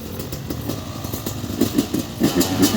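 A motorcycle engine idles and putters nearby with uneven throttle blips, loud and close, as a friend tries out the bike.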